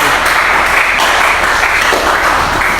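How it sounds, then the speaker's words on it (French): A church congregation applauds and cheers for Jesus during a service, a loud, dense and continuous wave of clapping and voices filling the room without a pause. "Est-ce qu'on peut acclamer pour la présence du Seigneur au milieu de nous? Acclame pour Jésus."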